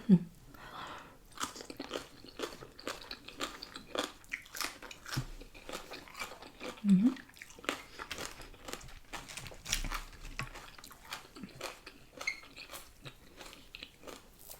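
Close-up eating of spicy pickled snail salad with fresh stink beans, repeated crunchy bites and wet chewing in an irregular rhythm, with occasional crinkles.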